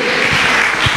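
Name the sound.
applause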